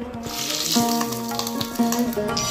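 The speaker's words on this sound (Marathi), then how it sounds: "मी आता उत्तापे बनवत आहे, तेही माझ्या रेग्युलर चपाती आणि भाकरी बनवायच्या तव्यावरती" Steady, even sizzling of uttapam on a hot iron griddle, with a faint tonal hum running underneath throughout.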